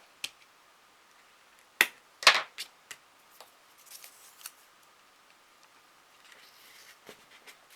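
Scissors snip card paper for a unicorn greeting-card kit in a series of sharp, close crisp cuts, with a couple of louder snips followed by smaller irregular clicks and rustles in a quiet room.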